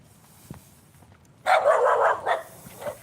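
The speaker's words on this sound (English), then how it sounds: "And a dog. It scared me." A dog near a residential building barks a few times, loud and fairly close, after a stretch of quiet outdoor background.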